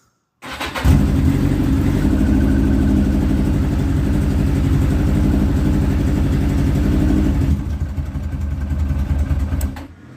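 A Yamaha XJ900s motorcycle engine cranks and catches, then runs loud and steady at a close idle for several seconds before cutting out near the end.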